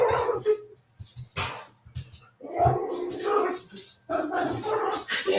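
A dog barks and whimpers in short bursts between stretches of people talking nearby.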